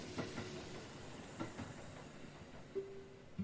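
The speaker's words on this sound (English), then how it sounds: "the train bumps down the tracks with the newly expanded group crammed into a compartment" A train running on tracks, a low steady rumble with faint periodic clicks and bumps, muffled as if heard from inside a compartment, with a brief tonal squeal near the end.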